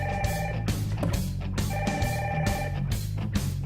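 A phone ringtone plays as a repeating electronic melody over steady music, loud and close, with no talking.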